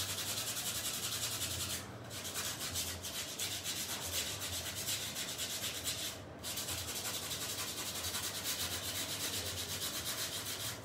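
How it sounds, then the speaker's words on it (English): Sandpaper rubbing over chalk-painted wood by hand, a soft continuous scratchy swishing in quick strokes with a couple of brief pauses, close and quiet. "You can just kind of, you need to swirl it around or up and down."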